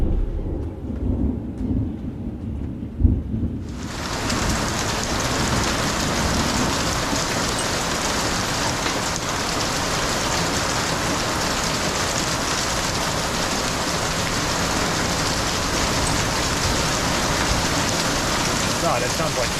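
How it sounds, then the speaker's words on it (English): Hail pelts a boat in a sudden dense downpour that starts a few seconds in and turns into a loud, steady drumming roar. A faint voice is heard at the start. "God, that sounds like hail."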